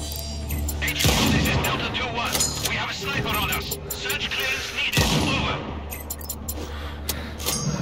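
Loud gunfire from the video game Sniper Ghost Warrior Contracts 2 breaks out in several heavy booming bursts over a continuous noisy action soundtrack, with a voice talking now and then.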